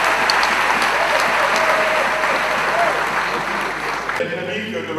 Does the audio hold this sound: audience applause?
yes